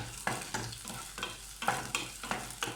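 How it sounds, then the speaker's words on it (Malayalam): Chopped onion and coconut pieces fry to golden brown in a pan for Kannur kalathappam, a soft continuous sizzle broken by regular scraping strokes of a spoon, about eight stirs, close and clear with no talking. "നമ്മുടെ ഉള്ളിയും തേങ്ങയൊക്കെ നന്നായിട്ടൊരു ഗോൾഡൻ ബ്രൗൺ ആയിട്ട് മൂത്ത് വന്നിട്ടുണ്ട്"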